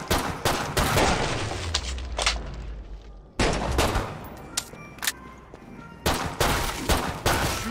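Rapid gunfire in the video game Killing Floor 2, with loud close bursts of automatic fire broken by short pauses, a brief gap partway through, then more clustered shots and single cracks.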